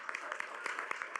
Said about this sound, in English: we need to give another round of applause